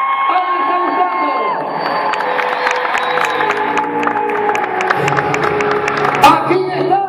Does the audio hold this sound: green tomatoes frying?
no